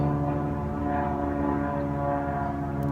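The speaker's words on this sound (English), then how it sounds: "Stupid planes." A propeller airplane drones overhead in a steady, continuous hum of layered low engine tones, filling the whole stretch with no voices.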